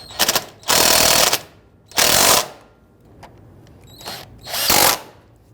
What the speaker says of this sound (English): let's go ahead and snug down our bolts.